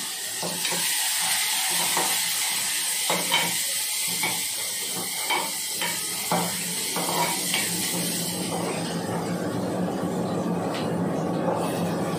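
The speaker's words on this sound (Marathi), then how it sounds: "थोडासा फोडणीला कांदा टाकलेला" Onion sizzles in hot tempering oil with cumin, curry leaves and garlic, a steady frying hiss with intermittent scraping stirs, close by and with no talking.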